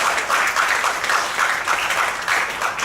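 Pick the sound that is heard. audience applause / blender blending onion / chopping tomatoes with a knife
audience applause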